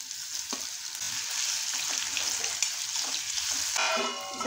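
Potatoes hit a hot tempering of mustard seeds, cumin and hing, a close crackling sizzle with scraping stirs, flaring into a sharper burst of spitting near the end.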